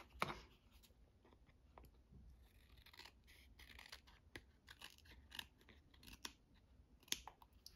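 Scissors snipping close by in a quiet room, a few faint, scattered cuts and crisp paper rustles with soft handling noises between them.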